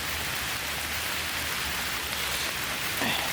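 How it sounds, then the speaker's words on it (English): Heavy rain pours down outdoors at night, a steady dense hiss of drops close by that holds throughout with no break. "it is like pouring down. I didn't expect it to be this rainy."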